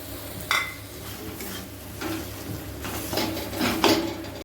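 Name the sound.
frying and stirring gram flour (besan) in a pan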